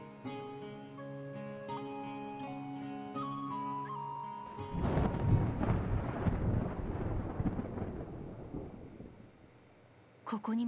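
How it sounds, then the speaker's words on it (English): Thunder in the video game Sword Art Online Alicization Lycoris, a deep rolling rumble that follows quiet musical tones and fades slowly. "The sound of thunder can be heard even from here."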